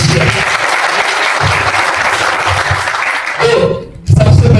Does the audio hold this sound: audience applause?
yes